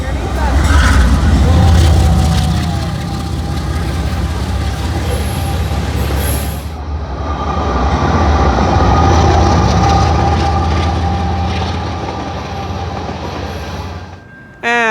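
A heavy freight train rumbles past close underneath, a loud steady roar of wagons with squealing wheels and a brief horn-like tone near the end.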